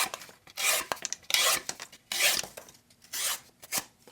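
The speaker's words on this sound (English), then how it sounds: "When cutting cardboard, remember not to cut perpendicular, but at an angle." A flat-ground knife slices at an angle through thin single-wall cardboard in a series of raspy, close cutting strokes with short pauses between them and no talk.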